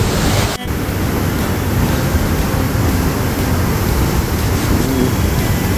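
Tiger Waterfall, the highest waterfall in Uttarakhand, a loud, dense roar of rushing, falling water, constant and close, with a brief clunk near the start.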